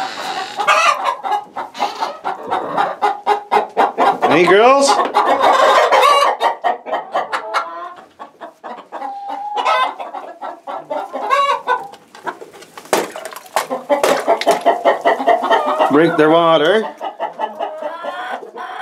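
Farm chickens cluck and squawk busily throughout, with a couple of rising calls standing out, while a person talks to the flock over the noise.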